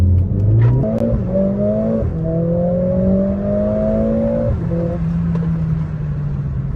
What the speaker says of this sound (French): Franchement, comment ça arrache pour un 2 litres turbo.